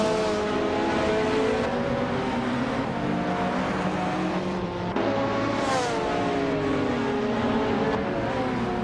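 A pack of Ferrari F430 GTC race cars starts a race on the Huacalalum Largo Antihorario track in a racing game: engines roar and rev steadily with rising and falling harmonic pitches, loud and continuous, with no voices over them.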